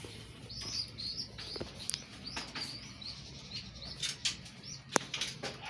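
Racing pigeons flutter and flap their wings while arriving home at a loft in Candon, Ilocos Sur, with soft bursts of wingbeats and chirps over a faint outdoor background.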